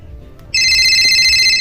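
After a brief quiet moment, a phone starts ringing with a loud, steady electronic tone close by.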